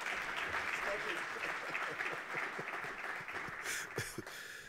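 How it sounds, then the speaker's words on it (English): Audience at Namibia's National Green Hydrogen Conference keeps clapping for a speaker, a broad wash of applause that thins slightly toward the end, with a few sharper close claps and faint voices beneath. "I think the man deserves a bigger round of applause."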